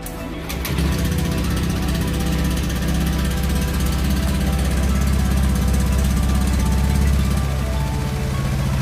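A Honda Beat FI scooter engine starts up and runs steadily after an oil change, a close, even putter with a buzzing drone that holds for several seconds before easing slightly near the end.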